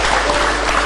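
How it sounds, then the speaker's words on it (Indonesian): A studio audience on a televised discussion programme breaks into a brief, dense burst of applause, loud and close. "tepuk tangan dong untuk pertanyaannya"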